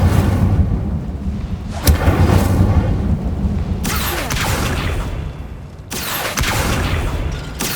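Fire spells cast in Hogwarts Legacy, heard as sudden loud whooshing bursts with a crackling roar, one near 2 s and larger flares around 4 s and 6 s, over a steady game ambience with no talk.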